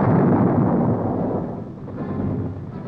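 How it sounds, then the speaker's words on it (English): Artillery fire from the U.S. Army's 173rd Airborne Brigade in Vietnam, 1968, pounding entrenched enemy positions: a loud, sustained deep rumbling boom that rolls on and slowly fades with no voices. "Wherever the enemy was too deeply entrenched, the artillery blasted them loose."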